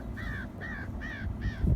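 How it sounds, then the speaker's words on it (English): A crow caws four times in an even series, each harsh call clear and moderately close, over low rumbling background noise on a farm field where hay has been raked and baled. "There's a crow."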